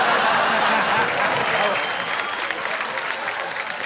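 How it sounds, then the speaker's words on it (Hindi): An audience on the Hindi TV comedy show Wah! Wah! Kya Baat Hai! claps in loud, dense, sustained applause, tapering slightly toward the end. "10 ही पुरुषों ने ताली बजाना शुरू कर दिया"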